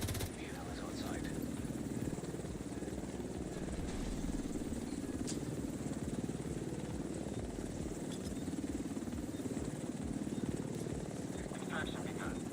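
A helicopter in a video game thrums in a steady, continuous rotor chop throughout, at moderate level with no clear approach or departure.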